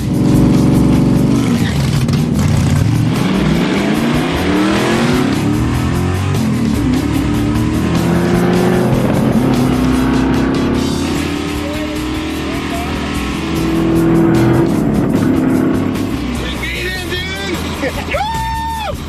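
A hot rod accelerates hard down a drag strip, its engine rising through gears in loud, sustained sweeps with a shift partway through, mixed with crowd noise and talk nearby.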